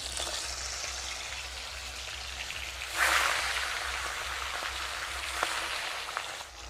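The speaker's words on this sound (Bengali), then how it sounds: "তেলটা গরম হয়ে গেছে, তেলের মধ্যে এবারে দিয়ে দিব মাছ।" Pieces of catla fish go into hot white cooking oil. A soft, steady hiss swells into a brighter burst of sizzling partway through, then settles to a quieter crackle.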